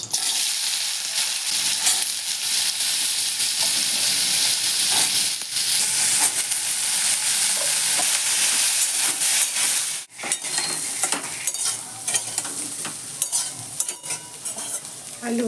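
Potatoes frying in oil, a loud, dense, continuous sizzle and hiss heard close up, with scraping stirs throughout and a brief dip near the end.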